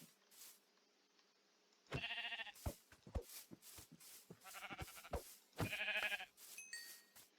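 Sheep in the Minecraft video game bleat in two loud, wavering calls separated by short clicks and game sound effects, with no talking.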